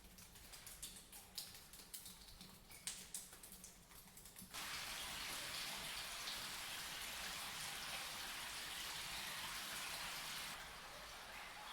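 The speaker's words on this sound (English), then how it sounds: "Some nice formations with water dripping continuously." Water dripping continuously inside an underground river cave at Tham Lot, soft scattered drips giving way to a steady wash of falling water that fills the space, quiet and close with no talking.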